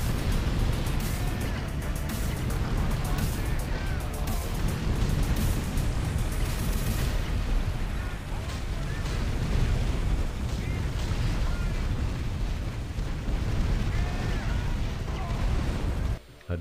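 Turret gunfire and explosions from the strategy game Art of War 3 rumble continuously and loudly throughout, with dense overlapping booms and blasts.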